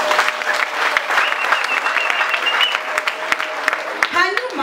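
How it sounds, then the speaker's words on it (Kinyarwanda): Crowd clapping at a large church gathering in Nyamata, Rwanda, a dense steady wash of applause running throughout, with a voice speaking near the end. "Ariko Imana tuyikomera amashyi."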